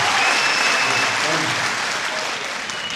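An audience at a Hindi-Urdu poetry recital breaks into loud, sustained clapping that fills the hall and tapers slightly near the end.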